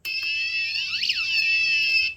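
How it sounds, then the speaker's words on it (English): Active buzzer on an Arduino, driven with passive-buzzer code, gives a loud, steady high-pitched electronic tone with a warbling sweep in the middle, held for about two seconds with no voices. "if I use the passive code for the active buzzer, it's going to give us a weird wonky result"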